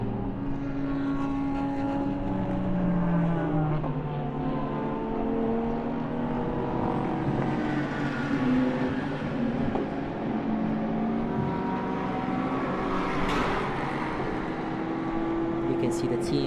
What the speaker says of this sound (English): Now you can see the Audi coming on strong.